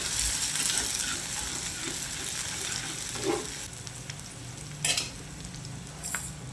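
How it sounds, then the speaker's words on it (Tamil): Curry leaves sizzle and crackle in hot oil for a Tamil-style egg curry, a steady close frying hiss with a few sharper pops and spatters and no talking. "கொஞ்சமாக ஒரு இனுக்கு கருவேப்பிலை சேர்த்துக்குங்க."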